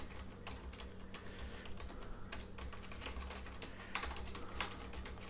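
Someone types steadily on a computer keyboard while entering Java programming blog post text. The key clicks come fast and close, in bursts with brief pauses, and no one talks.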